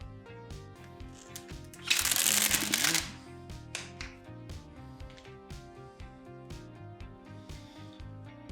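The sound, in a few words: peeling dbrand carbon fibre vinyl wrap backing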